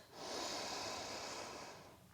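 Steady breath sound held in a side-stretch yoga pose, one long airy exhale-like rush lasting about two seconds, close and soft with no talking.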